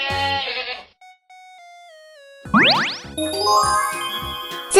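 A sheep bleats in a farm setting, starting with a loud wavering bleat followed by bright ringing chime and jingle tones and a later burst of mixed farm noise.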